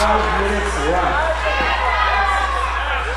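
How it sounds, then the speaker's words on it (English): A wrestling match crowd cheers and shouts in a continuous, loud roar with overlapping voices and a steady low hum underneath. "the crowd is cheering"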